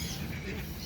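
Ducks honk and quack faintly at a bird park in Trichy, a short burst of calls over soft background noise.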